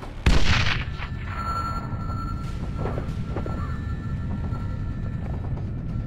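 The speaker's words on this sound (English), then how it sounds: "Incoming missile!" In the Sniper Ghost Warrior 2 video game, a sharp, loud blast opens as an incoming missile strikes. Dense, rumbling gunfire and engine noise carry on steadily behind it.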